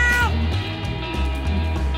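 A cat lets out drawn-out, wavering meows, loud and close, rising and falling over a low hum.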